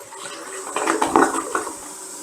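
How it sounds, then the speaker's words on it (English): A Toto Drake toilet flushing in a small bathroom, a swirling rush of water that builds to a louder gurgling surge in the middle and then tapers into refilling. "So I can just flush it."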